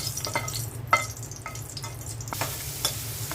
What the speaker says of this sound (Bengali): আমি শুকনো মরিচগুলো ভেজে নিচ্ছি।